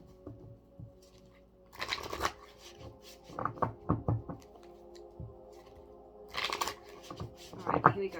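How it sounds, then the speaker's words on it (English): Tarot cards are shuffled by hand in a series of soft riffling bursts and crisp taps, close and fairly quiet, with light handling knocks between shuffles. "I wanted to give it a really good shuffle"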